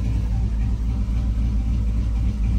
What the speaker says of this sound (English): All right, we're gonna fire it up. No foot on the pedal. fires up good.